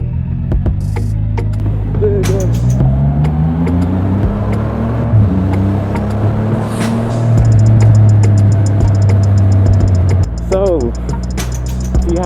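A 2021 Triumph Rocket 3 GT motorcycle engine on a ride, a steady loud hum with pitch rising and falling as it accelerates, with a voice talking over it and brief bursts of wind.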